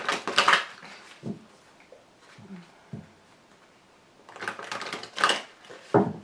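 A deck of tarot cards being gathered and handled, with rustling bursts and soft taps close by, some scattered thumps, and a quiet stretch in between.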